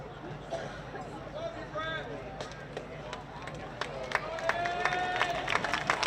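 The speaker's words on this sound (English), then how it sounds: "Brett Gordy walks off to applause." Applause and scattered cheering from a crowd at a Longview Lobos versus Frisco Reedy high school playoff baseball game as pitcher Brett Gordy walks off the field, steady and moderately distant, with an announcer talking over it.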